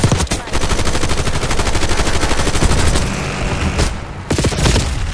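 Loud, continuous automatic gunfire from the online shooter Call of Duty Black Ops 6, rapid rattling bursts running almost nonstop, with a short pause near the end before firing resumes.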